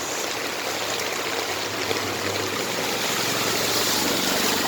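Floodwater runs across a road, a steady, broad rushing and trickling wash, close and continuous with faint low sloshing underneath, and no voices.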